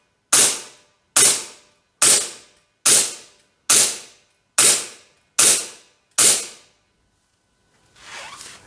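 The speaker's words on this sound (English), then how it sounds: "When shooting it through a chrono, it's always important to not actually shoot inside of the chrono." GBF Killer Innovations G17 gas gel blaster pistol firing eight sharp, evenly spaced shots about a second apart, each a crisp loud crack with a quick decaying hiss, close by, followed by a faint rustle.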